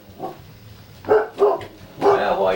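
A family dog in a home barks three times: a faint yip first, then two sharper nearby barks and a longer final bark-whine, with quiet room noise in between.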